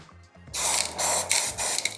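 Molotow spray paint can hissing in loud bursts, close up, after a brief rattle of the mixing ball.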